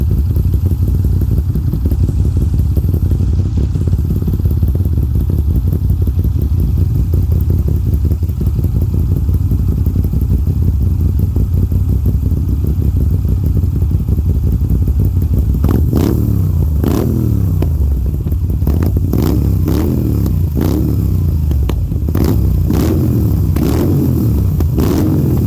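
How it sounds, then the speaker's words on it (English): A 2021 Moto Guzzi V9 motorcycle idles loud and close with a steady thudding exhaust, then gets revved several times in quick succession, each blip rising and falling in sharp bursts over the last third. "we'll do a rev up on this"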